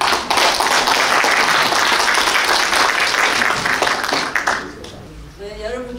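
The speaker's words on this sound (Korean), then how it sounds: "박수." Loud, dense applause from an audience at a Korean community Liberation Day celebration in Sydney, following a pansori performance, holds steady before tapering off, with a voice speaking as it fades.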